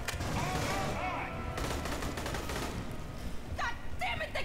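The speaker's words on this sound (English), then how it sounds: "they got auto turrets! Shooting those won't do any good!" Auto turrets in the video game Aliens: Colonial Marines fire in dense, continuous bursts of automatic gunfire that fill the whole stretch, loud and near, with voices shouting briefly over the shooting.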